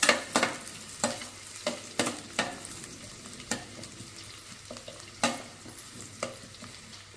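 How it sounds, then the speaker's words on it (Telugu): Onions and green chillies fry in a pan with a steady sizzle, broken by repeated scraping strokes of a spoon stirring at an uneven rhythm. "ఆనియన్ని కొద్దిగా ఫ్రై చేయాలి."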